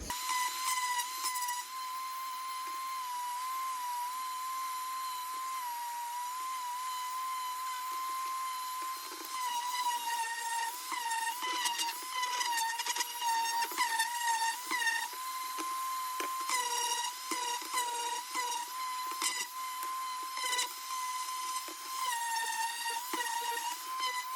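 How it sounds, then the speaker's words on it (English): An orbital sander works over wood for a DIY controller and headphone stand, giving a steady high motor whine that wavers and crackles as it is pressed and moved. "So I've just got my orbital sander right here."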